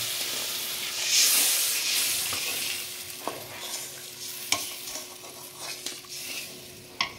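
Coconut milk poured onto fried masala for a prawn malai curry, a loud steamy sizzle that gradually settles while a spoon stirs and knocks against the pan in sharp taps, close and without talk.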